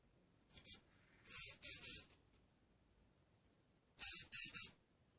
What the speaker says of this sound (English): just take your hairspray